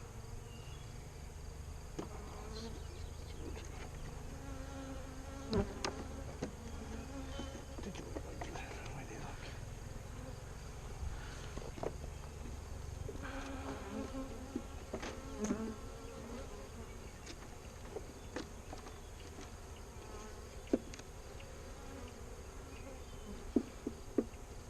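Honeybees drone in a steady, faint buzz around an open hive, with occasional clicks and handling noises near the keeper, and a person talking intermittently over it.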